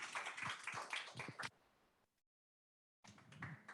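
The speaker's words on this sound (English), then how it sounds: "just one final round of applause for Jennifer Scott" Audience applause for speaker Jennifer Scott at a Sydney peacebuilding and peacekeeping event, a short burst of scattered claps that fades out, goes silent, then resumes briefly, faint and somewhat distant.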